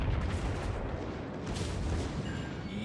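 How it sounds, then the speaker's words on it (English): Naval cannons firing in the World of Warships video game, as the Tirpitz battleship fights up close: heavy booming blasts and dense rumbling gunfire fill the scene at a moderate level, with no talk. "Fire the cannons!"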